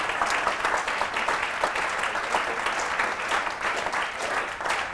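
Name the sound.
audience clapping, trying to synchronize their applause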